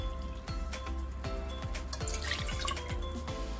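Water is poured into a large frying pan, giving a faint trickling splash with soft drips.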